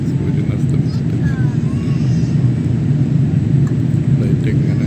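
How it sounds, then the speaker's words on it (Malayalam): Inside the cabin of an Indian Airlines passenger plane descending to land, a loud, steady engine and air roar fills the whole stretch with no breaks. "ഫ്ലൈറ്റ് ഇങ്ങനെ ലാൻഡ് ചെയ്യാനായിട്ട് താഴേക്ക് ഇറങ്ങിക്കൊണ്ടിരിക്കും"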